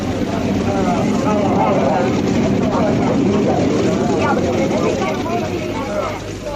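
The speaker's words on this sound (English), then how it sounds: "Plane leaving immediately." A loud, continuous engine roar fills the scene, like an aircraft powering up for takeoff, with faint voices murmuring beneath it.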